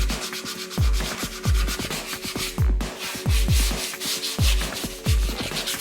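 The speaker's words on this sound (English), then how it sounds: "the first thing I'm going to do is sand it with some 80 grit sandpaper" Hand sanding with 80 grit sandpaper on the bare metal and old primer of a dented motorcycle fuel tank: steady rhythmic scrubbing strokes, close and fairly loud, about two strokes per second, with no talking.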